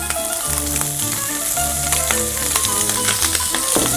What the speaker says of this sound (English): And we carry on cooking them for a few seconds, caramelizing the onions so they sweeten just a little bit.